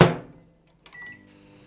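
A microwave oven heating chocolate for Easter eggs: a loud door thunk at the start, a pause, then a short beep and the steady hum of the oven starting up nearby.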